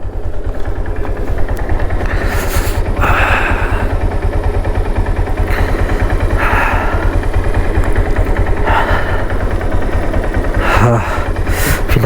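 A motorcycle engine idles steadily at a stop on a mountain road between Tabo and Kaza in -25°C winter cold. It gives a close, constant low rumble with a few brief higher-pitched noises now and then.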